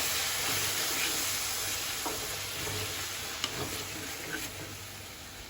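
A steady, loud sizzle of tomato puree frying in a pan, with a few faint scrapes and clicks of stirring near the end.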